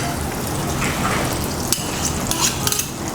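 Palmia palm margarine sizzles in a pan on a stove before frying thin banana chips, a steady close hiss with light stirring and occasional utensil clinks.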